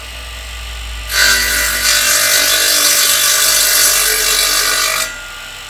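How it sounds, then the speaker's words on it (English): A power grinder shaping the cut edge of a wooden piece for a homemade garden table and bench, a loud continuous high whine lasting about four seconds, starting and stopping abruptly against quiet background. "I do need to just grind out the edge there, which is not too big of a deal."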